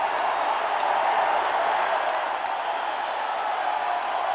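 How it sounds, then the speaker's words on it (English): A crowd in a Minneapolis, Minnesota wrestling arena stands and applauds the Mad Dog, a steady wash of many hands clapping that holds at an even level throughout, with no voices standing out. "look at these fans stand and applaud the Mad Dog"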